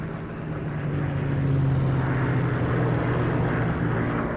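Dambusters Squadron bombers in tight formation during a WWII deception operation, a steady, loud, droning engine hum that holds level throughout with a faint low propeller pulse and no voices.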